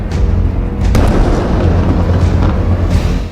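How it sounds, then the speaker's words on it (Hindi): A Hezbollah missile strike on an Israeli base lands as a heavy explosion, with a sharp crack near the one-second mark over a continuous deep rolling rumble and scattered smaller bursts. "दूसरा धमाका,"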